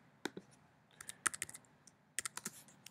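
Keys clatter on a computer keyboard in short irregular bursts of close, crisp clicks with brief pauses between, entering an address into a school district locator.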